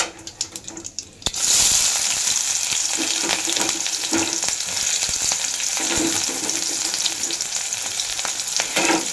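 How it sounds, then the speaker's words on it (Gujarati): Cumin, curry leaves and chopped onion hit hot oil in a pan, setting off a loud, steady sizzle that bursts in after a quiet second and keeps crackling evenly, with occasional stirring clinks. "હવે એમાં આપણે સમારેલી ડુંગળી છે એ નાખી દઈશું"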